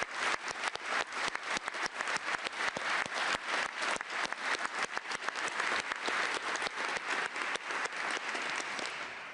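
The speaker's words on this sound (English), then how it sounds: "I knew that Gwyneth would get the biggest clap." Audience clapping after a UK Chancellor's economic speech, fairly faint with distinct individual hand claps in a steady, slightly uneven rhythm lasting several seconds.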